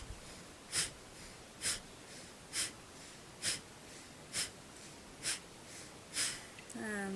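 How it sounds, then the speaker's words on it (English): Pranayama breathing practice: eight evenly spaced sharp, forceful exhalations puff out roughly once a second, each a brief breathy burst over a quiet background of soft inhalation, close to the microphone. "hands up, breathe in through the nose, and then out into fist to the shoulders"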